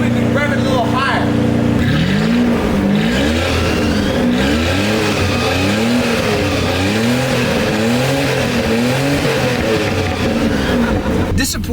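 Stock V12 Jaguar engine, warmed up, revved repeatedly in a steady rising-and-falling pattern, loud and close, with a constant idle rumble between revs.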